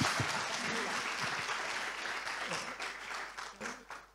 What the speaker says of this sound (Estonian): Teeme kõigepealt kiire aplausi ja pärast teeme kohe pärast suure aplausi.